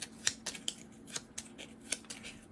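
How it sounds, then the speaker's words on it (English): Cards being shuffled during a tabletop session of the board game Tin Dragon: a quiet run of light, crisp papery riffles and taps, about eight separate soft snaps spread over a couple of seconds. "I'm going to shuffle"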